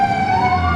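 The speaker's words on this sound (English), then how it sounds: "That's the sirens you hear in the background." Emergency vehicle siren wailing in the background, a steady bright tone sliding slowly in pitch, heard alone without talk and fairly loud.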